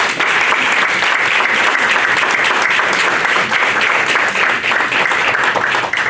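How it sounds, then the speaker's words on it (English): Sustained audience applause at a school board meeting fills the room loudly and evenly for about six seconds, dense and steady with no break. "let's applaud them"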